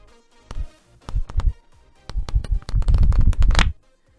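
Sheets of a thick Bristol paper pad being flipped close to the microphone: crisp, stiff papery flaps and rustles, first a few spaced single turns, then a quicker run of overlapping flips before stopping, no talk.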